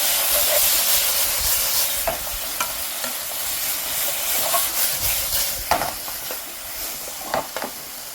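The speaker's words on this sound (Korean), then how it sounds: "자, 타지 않게 볶아주세요" Bacon kimchi fried rice being stir-fried in a pan: a steady close sizzle with repeated scrapes and clacks of the spatula against the pan, and no voices.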